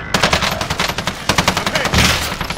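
Loud automatic gunfire from the Call of Duty Modern Warfare video game, rapid bursts of close machine-gun shots with a heavier volley near the end, no talking.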